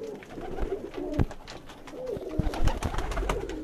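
Pigeons of various breeds coo softly and repeatedly at close range in a rooftop loft. The calls come in low, rounded phrases with faint rustling between them and no voices.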